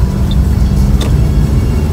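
From inside a car on a snowy, slippery road at night, a constant loud low rumble of engine and tyres continues, with a couple of faint high ticks.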